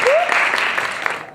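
Audience applause at a live event, a short dense burst of clapping up close, with a brief whistle at the start.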